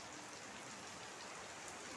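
Evening rain falls steadily outdoors, a soft, even hiss of drops on surfaces at low volume with no voices.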